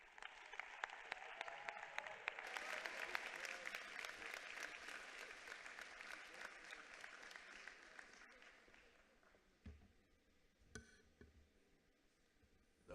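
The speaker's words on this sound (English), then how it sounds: "let's please put a warm round of applause for Minister Siviwe Gwarube" Warm audience applause for Minister Siviwe Gwarube at the 2024 matric results announcement, swelling into dense clapping, holding for several seconds, then thinning to scattered claps and quiet room noise with a few sharp knocks.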